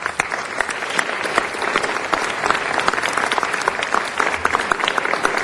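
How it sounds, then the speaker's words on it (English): Audience applause fills a city council meeting chamber, a steady, dense wash of many hands clapping at once that continues throughout without a break. "Give them all a big hand"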